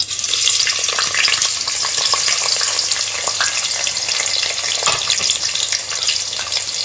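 Chopped onion fries in hot oil over a low flame for chicken nihari, a loud, steady sizzle with crackling pops and occasional stirring throughout.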